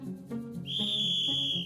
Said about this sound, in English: For example, the sound of this whistle